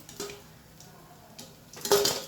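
Pans and dishes clink and knock as they are lifted off a stove after frying gourd-leaf rolls, with a few sharp metallic taps early on and a louder cluster of clatter near the end.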